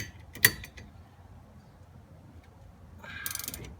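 A hand ratchet tightens a steering wheel hub during an NRG quick release installation, a single sharp click followed by a short burst of quiet ratcheting clicks near the end.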